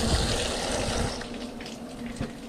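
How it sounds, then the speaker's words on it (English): Water from a tap rinses freshly cut rattlesnake meat, a steady close splashing rush that runs continuously and eases slightly toward the end. "we wanna rinse them off a little bit where we cut them"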